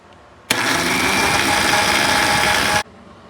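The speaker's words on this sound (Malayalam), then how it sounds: "ഇനി ഈ മിക്സ്ചറിനെ നമ്മളൊന്ന് ബ്ലെൻഡറിലിട്ട് നന്നായിട്ടൊന്ന് പേസ്റ്റ് പരുവത്തിൽ അരച്ചെടുക്കാം" Blender grinding a banana hair mask mixture into a paste: one loud, continuous whir of a little over two seconds that starts and stops abruptly, with no other sound.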